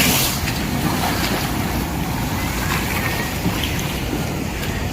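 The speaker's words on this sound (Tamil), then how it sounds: "சரியான அலை." Sea waves wash in at Kovalam beach beside a fish market, a dense steady surf roar mixed with wind noise.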